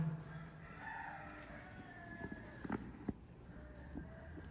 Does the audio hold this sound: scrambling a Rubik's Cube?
no